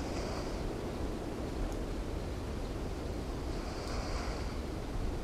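Sea surf rolls in steadily at the shore with wind blowing across the microphone, a continuous broad roar with no pauses, fairly close and even in loudness.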